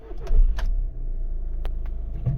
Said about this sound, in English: And now we will start the car.